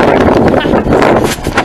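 Wind buffets the microphone on the Eiffel Tower in Paris in rough, loud gusts of low rumble and hiss.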